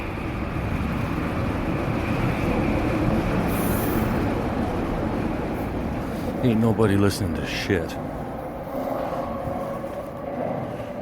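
An automated Vancouver SkyTrain passes at a distance as a steady rumble with brief wheel squeals, while someone talks over it.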